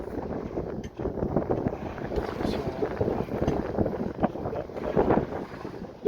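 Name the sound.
sailboat sailing into the wind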